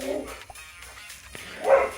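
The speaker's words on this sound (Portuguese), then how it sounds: "Ignora meu cachorro." A pet dog indoors gives a few short barks and yips, with one louder bark near the end, close by and alone with no talking over it.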